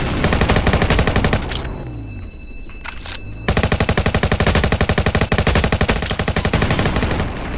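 Rapid automatic gunfire rattles in the Roblox Jailbreak video game, loud and close, with a long burst, a brief lull with a sweeping tone, then another sustained burst of rapid shots.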